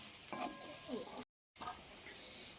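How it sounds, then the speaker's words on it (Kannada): Cooked rice being stirred and folded into a spiced potato masala in a pan, giving soft scraping and light sizzle in short bursts, broken by a brief silent gap. "ಇವಾಗ ಅನ್ನ ಮಿಕ್ಸ್ ಮಾಡ್ಕೊತಾ ಇದ್ದೀನಿ."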